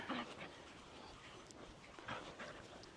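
A dog pants outdoors in a field, quick soft breathy huffs repeating near the microphone with a faint whimper, against light outdoor background noise.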